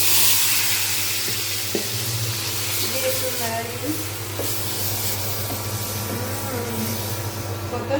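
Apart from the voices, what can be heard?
lentils added to hot oil tempering, sizzling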